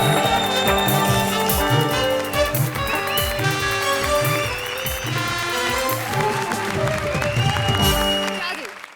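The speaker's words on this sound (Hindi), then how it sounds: "जोरदार तालियां भारती और सुकेश के लिए, प्लीज।" Studio audience of a comedy show claps loudly for a performing pair while upbeat band music plays over the applause throughout, the clapping and music filling the whole stretch.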